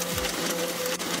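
An offset printing press runs with a steady, dense mechanical whir and a constant hum, loud and continuous throughout, with no voices.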